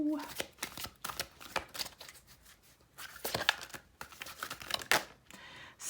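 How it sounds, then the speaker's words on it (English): A deck of Black Moon astrology cards is shuffled up close in quick repeated riffling bursts, crisp papery flutters coming in uneven clusters over several seconds. "Let me get some Black Moon astrology cards."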